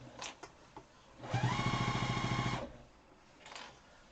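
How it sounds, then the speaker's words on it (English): A home sewing machine stitches fabric for a face mask in one steady, loud, rhythmic run of about a second, with small handling taps before and after. "I sew it to the middle where I see the seam"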